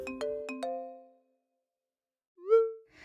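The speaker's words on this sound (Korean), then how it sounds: "늦은 오후 전화벨 소리에 잠에서 깬 당신" A mobile phone ringtone sounds in a quiet room late in the afternoon: four quick, clear chime notes ring out and decay, then after a pause a single bending, swooping tone begins the next ring.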